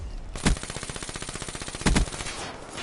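A VMP submachine gun fires a sustained rapid automatic burst in a Call of Duty game, a steady rattling stream of shots with two louder cracks within it and no talking over it.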